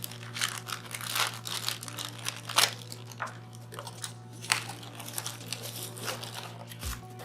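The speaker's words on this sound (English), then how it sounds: "remove the unit from its packaging, pull out the USB cable that's provided," A Honeywell EDA50 handheld unit is pulled from crinkly plastic packaging, giving close, irregular bursts of crackling and rustling that come and go over several seconds.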